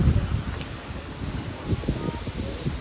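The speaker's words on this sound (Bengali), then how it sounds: "বেশ ভালোই বৃষ্টি হচ্ছে," Heavy rain driven by strong wind during an afternoon downpour, a continuous rough broadband rush with gusty buffeting close to the microphone, no voices.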